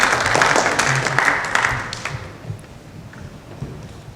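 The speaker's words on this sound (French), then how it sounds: "Applaudissez pour vous-même" Audience applause in the Brussels Parliament, a short burst of clapping that is fairly loud at first, then tapers off into scattered claps and room noise within a few seconds.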